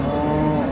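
Dairy cow at a cattle market, giving one loud, close, sustained low moo that lasts the whole brief moment, with no talking over it.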